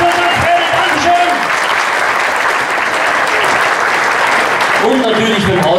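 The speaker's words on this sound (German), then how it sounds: "Wir haben einen riesen Applaus für unseren Fredel, Dankeschön." Loud audience applause for the sound technician at a Christmas stage show, a thick sustained burst of clapping in a hall, with someone talking over it at the start and again near the end.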